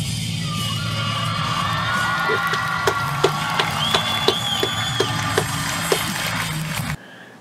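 Girls in a crowd scream continuously at a Naruto versus Sasuke cosplay performance, a loud high-pitched wash with repeated sharp bangs or thumps punctuating it before it cuts off abruptly.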